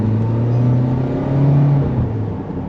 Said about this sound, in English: during acceleration, you can definitely hear the engine